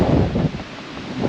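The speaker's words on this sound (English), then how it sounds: "wind is very strong" Strong wind gusts at Pipa Beach, a short, loud rush of low rumbling microphone buffeting that swells, dips, and surges again.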